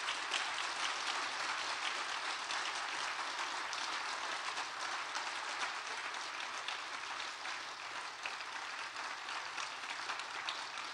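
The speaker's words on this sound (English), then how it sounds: "Could we have a round of applause for our panel?" A panel audience applauds after a discussion of a West Valley resort project, a dense steady clatter of clapping that holds evenly throughout, heard from a moderate distance with no voices.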